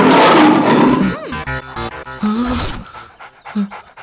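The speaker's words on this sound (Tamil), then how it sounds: "என்ன மேடம் ஜிம்மினா டைகர் உருமுது?" A tiger's roar and growl in a Tamil film comedy scene, loud and close, rising and falling in several bursts over a noisy, busy soundtrack.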